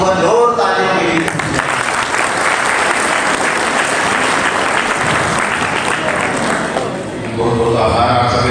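Loud, sustained audience applause fills the hall at a yoga, yagya and healing camp in Kawardha, steady dense clapping with a brief dip near the end before rising again.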